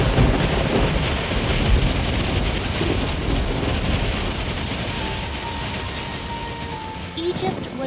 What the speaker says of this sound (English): When Pharaoh said no again, God sent a plague of hail.